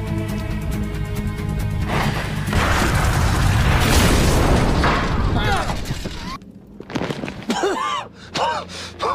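A film explosion rips through the crawlspace beneath a house: a loud, sustained roaring blast with crackling debris that swells then cuts off abruptly, followed by scattered bursts and gasping cries.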